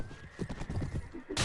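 In the Mount and Blade game, a horse's hooves clip-clop in a quick, rhythmic patter with a whinny, ending in a sudden loud burst of noise.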